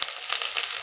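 Garlic frying in hot oil for a tamarind chutney, a steady close hiss of sizzling with faint stirring textures and no voices.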